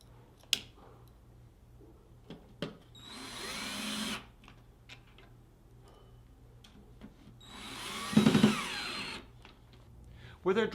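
A power drill drives #7 x 5/8 flathead screws at a slight angle into the bottom of a drawer box to fix locking devices, whirring in two short, close bursts separated by quiet handling noises.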